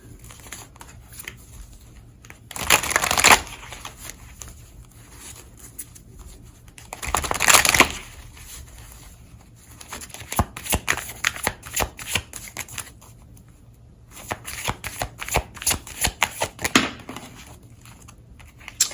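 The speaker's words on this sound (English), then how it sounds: "let's get a few cards from my deck" A deck of cards is shuffled in several distinct bursts, with bright riffling crackles rising and settling again in a quiet room, with no talking.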